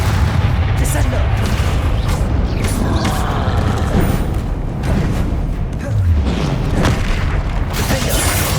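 Heavy magical impact booms from the Descendo slam spell in Hogwarts Legacy, set in a cave, come as repeated loud low thuds in dense combat noise with shouted spell names over them.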